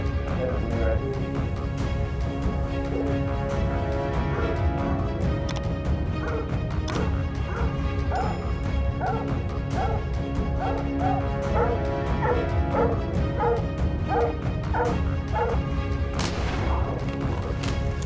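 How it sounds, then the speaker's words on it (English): Hunting dogs bark furiously and continuously in dense underbrush during a mountain lion hunt, with loud, overlapping barks, yips and whimpers that keep up a busy, crashing rhythm throughout. "One of the dogs broke formation and charged into the dense underbrush, barking furiously"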